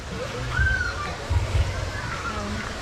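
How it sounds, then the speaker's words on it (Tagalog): Pool water falling from above into the pool at a filtered, chlorinated pool: soft sloshing and splashing with a couple of louder splashes, under a voice speaking nearby. "yung tubig dito sa taas, pababa siya"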